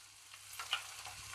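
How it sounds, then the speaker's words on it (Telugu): Moong dal and onions fry softly in a tempering of oil for a ridge gourd curry, giving a faint, steady sizzle with a small crackle near the middle. "ఉల్లిపాయలు కొంచెం ఇట్లా లైట్ గా వేగాగానే ఒక్క టేబుల్ స్పూన్ పెసరపప్పు తాలింపులో వేసుకోవాలండి"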